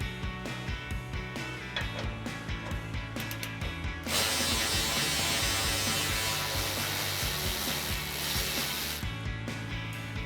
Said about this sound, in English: For that, we're gonna use our 10 millimeter socket and extension on our ratchet.